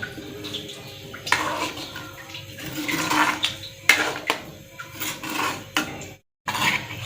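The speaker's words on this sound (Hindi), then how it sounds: "आधा लीटर पानी डाल दिया है।" Water poured into a pot of mutton nihari gravy, a running, splashing pour with metallic clinks of the pot and utensils, fairly close and moderately loud.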